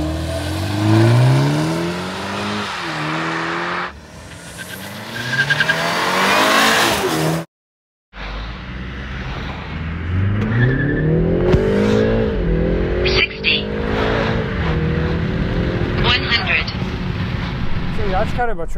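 A stock BMW 330i G20 sedan accelerates hard, its engine note climbing repeatedly through the gears with brief drops at each shift, loud and near, while someone talks over it.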